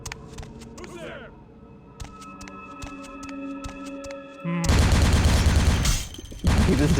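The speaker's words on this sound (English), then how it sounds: "He just didn't notice all the gunshots that have been going on." Gunfire in the video game Bloodlines rings out in rapid bursts and single shots, with a louder, denser barrage of shooting toward the end.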